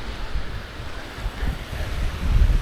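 Sea waves wash onto the shore at Praia do Forte in Florianópolis, a steady close surf roar mixed with wind buffeting the microphone, swelling louder toward the end with no voices.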